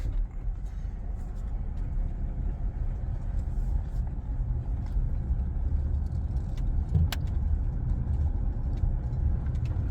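A car rolls slowly past a building in a small Georgia–Tennessee mountain town, a steady low engine and road rumble holding close and even throughout with no talk.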